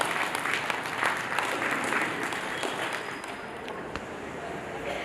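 A crowd at an outdoor Independence Day flag-hoisting gives hearty, sustained applause for elderly yoga performers, a dense wash of clapping that tapers off slightly toward the end.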